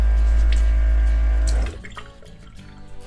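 Water running steadily from a small foot-pedal camp faucet fed by an electric water pump in a converted step van, a loud rushing stream that cuts off, leaving soft drips and splashes in the sink.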